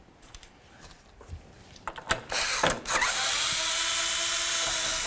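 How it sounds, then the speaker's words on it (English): A power tool backs out two 8mm bolts from the tailgate handle of a 2006-10 Ford Explorer: a few sharp clicks and short whirs, then a sustained steady high-pitched motor whine running to the end. "You're going to find two 8mm headed bolts. Let's go ahead and remove the pair and this handle."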